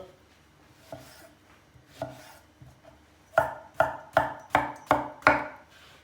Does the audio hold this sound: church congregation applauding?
no